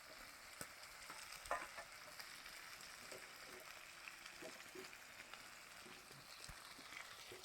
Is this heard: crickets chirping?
no